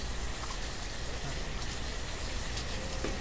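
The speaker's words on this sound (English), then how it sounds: "Yes, folks, run. It's raining." Steady rain pours down in a video game, a dense continuous hiss of drops spreading evenly across the whole stretch with no voices over it.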